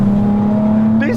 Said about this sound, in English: And those twin Weber carbs are just raucous.